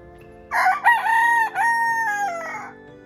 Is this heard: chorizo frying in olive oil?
no